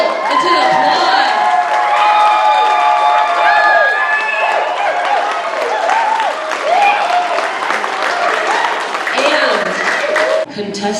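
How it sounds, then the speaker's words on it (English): Audience applause and cheering for a child contestant at a community talent contest, loud and sustained, with whoops, shouting children and crowd voices mixed in. "put your heart and soul into the applause."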